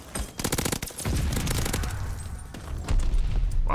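Rapid machine gun fire from an Automaton in Call of Duty Vanguard rattles off in a tight, fast burst, then gives way to quieter gunfire and ambient battle noise.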